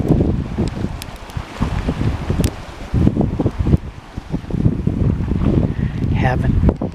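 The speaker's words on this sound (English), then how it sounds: "Ain't nothing better than the sound of a fire and some waves." Lake waves and a crackling campfire on the shore of Lake Granby, with steady wind noise and sharp irregular pops and snaps over a continuous washing rumble.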